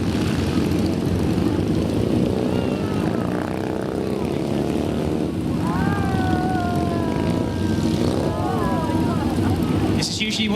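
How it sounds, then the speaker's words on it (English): Four stunt motorbikes cross over in the centre of an arena show, a loud steady engine drone with rising and falling whining revs, while a voice talks over a public address system throughout. "we've got 4 bikes crossing over in the centre of the arena."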